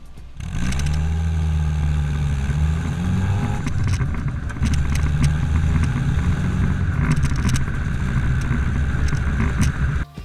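A steady car engine idles through a stock exhaust with a low, throaty rumble, holding an even note throughout with a slight rise partway through.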